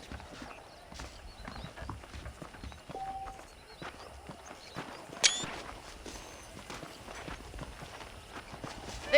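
Horse hooves clip-clop at a steady walking rhythm in the Western video game Red Dead Redemption, moderately close and continuous, with faint creaks and ambient outdoor sounds and no talk.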